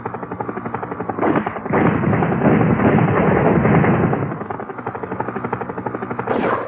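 Helicopter in the 1995 video game Cybernet: a dense, loud mechanical roar with rapid chopping pulses, swelling around the second second and easing off near the end, alone without talk.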